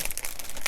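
Thin plastic packaging around a Buildable Tags Thin Cuts die set crinkles in short bright bursts, handled close up with no talking.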